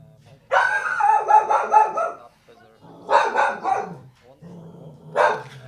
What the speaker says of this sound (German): Hund meckert wegen dem Böller